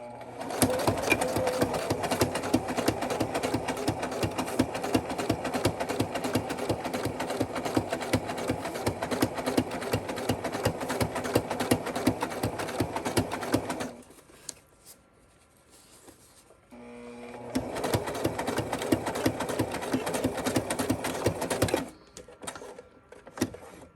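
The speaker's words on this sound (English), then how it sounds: "we're going to go ahead and just stitch across from one pin to the other." A sewing machine stitches fabric from pin to pin in a fast, steady mechanical run lasting several seconds, then pauses briefly and starts again for another sustained burst before stopping.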